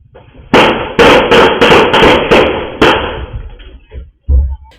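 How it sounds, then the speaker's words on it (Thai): Eight sharp gunshots fired in quick succession by a gunman on a motorbike at a soi entrance in Hat Yai, Songkhla, loud and close, bursting out in a fast irregular string followed by a brief thump. "ซัดกันรัวรัวแปดนัดซ้อน ปังปังปังปังปังปังปังปังนับกันแทบไม่ทันเลยครับ"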